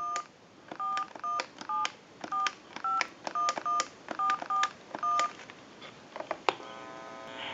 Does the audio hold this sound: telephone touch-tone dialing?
yes